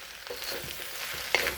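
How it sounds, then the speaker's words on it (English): Roast pork and shrimp lo mein being stir-fried in a wok, a steady close sizzle with a few scraping tosses of the noodles and a sharper clatter near the end, no voices. "you're always continuously stir frying it"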